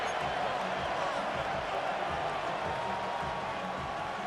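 A stadium crowd roars steadily in Madden 26 during a late-game Jaguars drive, a dense, continuous wash of distant cheering with no distinct peaks.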